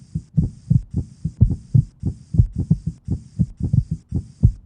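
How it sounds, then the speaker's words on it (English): A heart, exposed after its tough fibrous coating and great vessels are partly removed, beats in a steady rhythm of paired low thumps, about a dozen across the stretch, close and clear with no talk. "you can get a better look at the heart beating"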